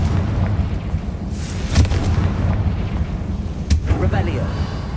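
Two sharp, booming blasts of the Confringo fire spell in the Hogwarts Legacy video game, spaced a couple of seconds apart over a steady rumbling game ambience.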